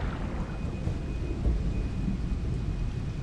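Rain and thunder in the Path of Titans dinosaur survival game, a steady dense wash of rainfall with low rumbling thunder underneath, continuous and fairly loud throughout with no voices.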